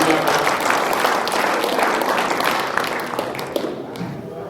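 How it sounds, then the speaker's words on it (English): Audience applause fills a football banquet hall, a dense, steady wash of clapping from many hands that tapers slightly toward the end, with faint voices mixed in. "give Riley another round of applause."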